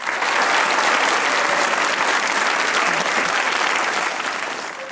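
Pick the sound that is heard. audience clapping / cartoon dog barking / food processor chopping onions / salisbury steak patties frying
audience clapping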